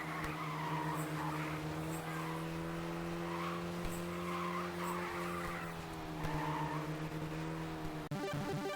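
Citroen ZX Dakar rally car in the Sega Rally Revo video game, a steady engine drone with repeated tire skids and squeals as it slides through corners, continuous and fairly loud.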